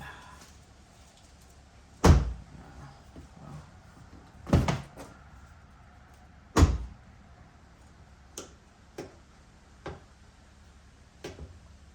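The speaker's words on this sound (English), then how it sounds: "Let me open the door a little bit." A Ford Maverick door is worked open with several sharp, close clunks and thumps spaced a couple of seconds apart, then fainter clicks, against a quiet background.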